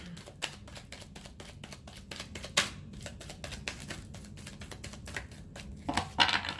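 Tarot cards being shuffled by hand in a quiet room, a steady run of soft, rapid papery riffles and flicks with a few sharper snaps near the end, close and fairly faint.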